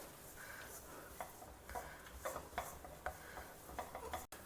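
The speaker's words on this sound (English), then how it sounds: "roast it in this ghee till it changes color and is well" Gram flour is stirred and roasted in ghee in a pan, with soft scraping and rubbing strokes from a spoon repeating in an uneven rhythm, close and quiet.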